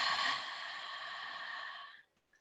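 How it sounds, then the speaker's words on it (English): Pressurized breath pushed out from the back of the throat, like fogging a mirror, forms a single steady hoarse exhale of about two seconds that fades to silence, close and alone. "when you breathe out, envision yourself fogging up a mirror."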